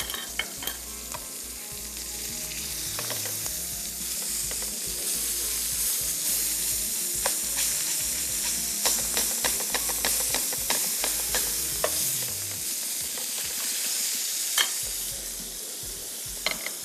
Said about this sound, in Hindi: मक्खन को मेल्ट करने के बाद तीनों सब्जियों को हमने करना है इस पे अच्छे से सौते।